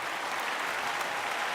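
Steady, dense audience applause on the set of a Tamil TV serial, many hands clapping evenly at a moderate distance with no voices on top, filling the whole stretch.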